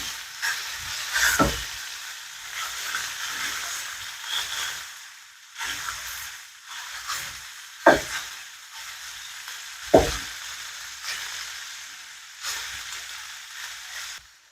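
Pork chorizo frying on low heat in a greasy pan, a steady soft sizzle with a few louder clatters of a spatula or utensil against the pan at intervals, close and moderately loud with no talking.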